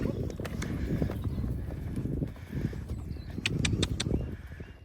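A show horse canters in an arena, rhythmic hoofbeats thudding in a steady three-beat pattern under a rider's instructing voice, with faint birdsong in the background.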